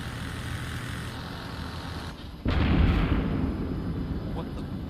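A single heavy artillery blast booms in a military video game, a sudden loud low thud that rolls on after faint radio chatter and background noise.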